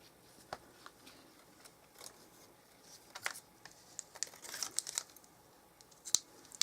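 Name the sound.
taking a glue dot off its backing for card making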